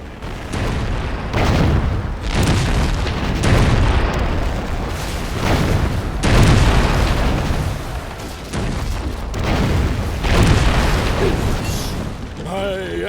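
Ship cannon fire in the strategy game Anno 1404, a continuous barrage of heavy booms and explosions rolling one after another, loud and dense throughout.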